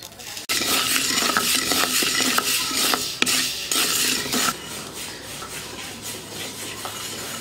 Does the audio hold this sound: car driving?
no